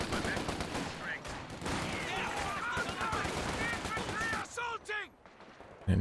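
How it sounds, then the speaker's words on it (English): Grenadiers firing a burst of rifle and machine-gun fire in the Company of Heroes 2 war game, a sustained crackle of shots lasting several seconds, with a caster's voice running over it. "it goes down to a big burst from the Grenadiers"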